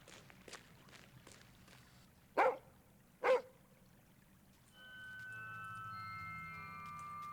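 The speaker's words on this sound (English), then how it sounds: "I hear you, dog." Two sharp barks from a dog in the video game Lorelai and the Laser Eyes, close and fairly loud, standing out against a quiet background before a soft sustained tone comes in.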